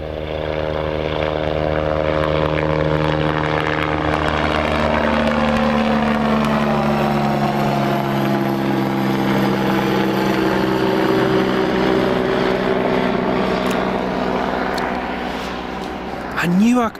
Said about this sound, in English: Oh, I was right, the King Air is taxiing as well.